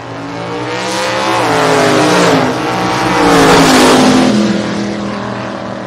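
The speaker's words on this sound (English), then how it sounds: "Scott Dunn dialed in at 568 in the Chevelle" A Chevrolet Chevelle drag races down the strip with a loud, close engine roar that climbs in pitch through its gear changes and swells, then eases off slightly as it goes past.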